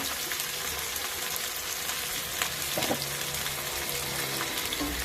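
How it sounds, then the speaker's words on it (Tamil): Vavval fish (pomfret) frying in oil in a pan, a loud, continuous sizzle and crackle with a few sharper pops and spits near the middle and no talking. "இது வவ்வால் மீன், அதனால் ரொம்ப நேரம் நீங்கள் ஃப்ரை பண்ண விடாதீங்க"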